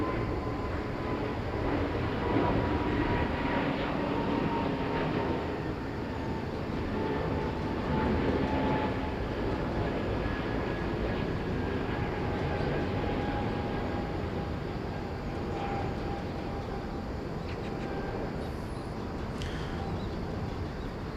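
An Air Busan airliner takes off at Incheon Airport, its engines making a loud, continuous broadband roar with faint tonal whine that stays strong and steady, slowly easing toward the end.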